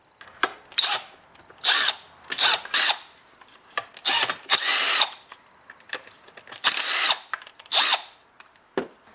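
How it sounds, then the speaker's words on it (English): A powered driver with a T27 Torx bit backing screws out of a Stihl MS21 chainsaw, sharp high whirring bursts of about a second each in a rapid stop-start rhythm, close and loud. "with a T27 Torx screwdriver, you need to remove the Torx screw over here"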